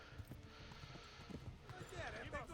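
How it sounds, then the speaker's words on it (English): Horse hooves clopping in a steady galloping rhythm in Kingdom Come: Deliverance, faint beneath a person speaking over the game sound. "Oh God, horse, gallop. Gallop faster."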